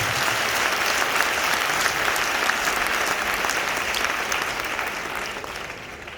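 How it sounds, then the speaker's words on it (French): Church congregation applauding and cheering for the Lord at an evangelical service, sustained dense clapping from a large crowd that stays loud throughout, tapering slightly toward the end. "est-ce que tu peux acclamer très fort pour le Seigneur?"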